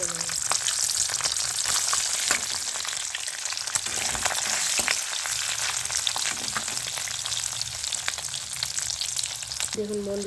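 Pieces of boiled egg fry in hot oil, a continuous bright sizzle with crackling pops and spits throughout, close and steady, with occasional faint stirring clatter.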